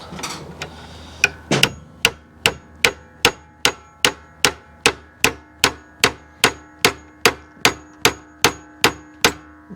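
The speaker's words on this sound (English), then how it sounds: "I'll use a smaller hammer than this too." A small hammer taps a metal part into a 1994 C4 Corvette pop-up headlight assembly in a steady, even rhythm, about twenty sharp ringing strikes after a couple of scattered initial hits, close and clear.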